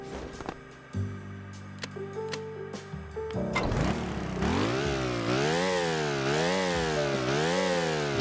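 A sports car's flat-four modular engine in Stormworks starts from a low stepped idle, then revs up and down repeatedly in a rising, falling buzzing whine that stays loud and steady.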